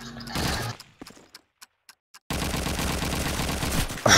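In a Call of Duty 2 esports match, a burst of gunfire is followed by a near-silent gap with a few sharp isolated shots, then dense loud firing and game noise return.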